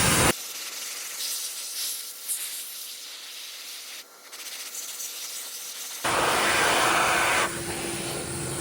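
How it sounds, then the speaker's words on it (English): A shop vac running in reverse blows out a McGraw 20 gallon air compressor's air filter, a loud steady rushing airflow that dips and shifts, then surges stronger and brighter near the end. "a shop vac like this, where you can reverse it and blow it out"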